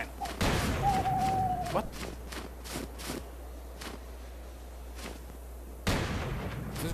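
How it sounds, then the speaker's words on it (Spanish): Scattered gunshots from a video game: a few sharp bangs and softer distant shots over a low hum, with a voice briefly speaking. "Escuchando disparos"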